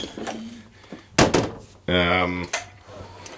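A very narrow bathroom door inside a converted bus opens with a short clunk and a scraping slide. A person talks before and after it, and a brief tonal hum sits in the middle.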